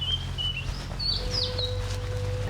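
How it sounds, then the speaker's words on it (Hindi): Birds chirp and tweet outdoors at a rural spiritual retreat in India, high thin calls over a steady low hum and background noise. "कितनी सुंदर यहाँ पे पक्षियों की चहचहाट है।"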